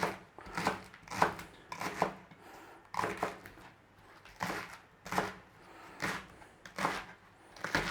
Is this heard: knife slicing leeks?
yes